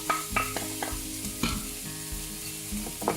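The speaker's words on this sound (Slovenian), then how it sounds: "na ogreto olje dodamo narezano čebulo" Chopped onion is stirred in heated oil in a pot as the first step of a potato goulash. A loud, close sizzle runs throughout, broken by repeated scraping stirs of the spoon, with no speech.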